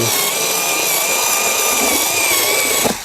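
An INTERTOOL WT-0300 cordless screwdriver with a cutting attachment slices cardboard, producing a loud, close, continuous high-pitched motor whine with a rough cutting rasp underneath that stops abruptly near the end.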